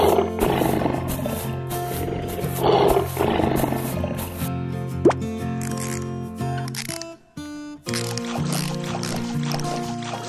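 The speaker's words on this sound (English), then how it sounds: "Lion." A lion's deep, powerful roar repeats in loud, rumbling bursts over several seconds, then gives way to sustained tonal background sound.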